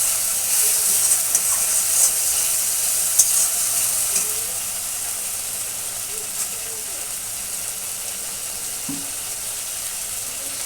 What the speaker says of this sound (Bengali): ভালো করে নাড়াচাড়া করব